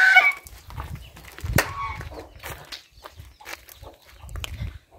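A bantam hen and chicks on a farm give soft clucks and small peeping calls at close range, along with light rustling and scattered taps in a quiet yard.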